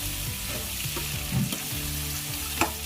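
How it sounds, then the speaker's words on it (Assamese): Pre-boiled pork sizzles steadily in a pan with turmeric and salt while being stirred, the even frying hiss broken by occasional scrapes and clinks of the spoon. "মই অলপ টাইম ফ্ৰাই কৰিম এনেদৰে"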